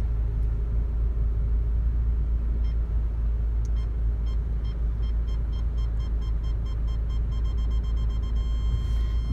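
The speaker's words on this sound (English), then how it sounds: "go backwards so you can hear the parking sensors working" Parking sensors on a Honda Civic 2.2 i-CTDI beep in a steady repeating series while the car reverses, sitting faint above a constant low engine idle rumble.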